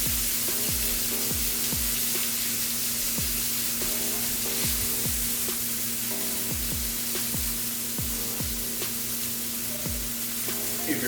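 Shrimp sizzling in a very hot pan, a steady loud frying hiss that runs throughout, with a low repeated thumping pulse and a droning hum underneath.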